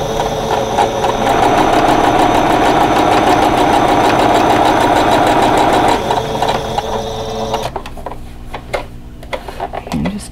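Sewing machine stitching a quarter-inch seam on a quilt block, a steady loud mechanical run for about eight seconds before stopping and leaving quieter room sound.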